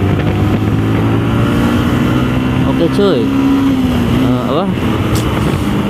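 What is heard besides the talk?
motorcycle engine with stock exhaust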